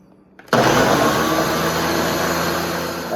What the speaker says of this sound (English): Then I blend.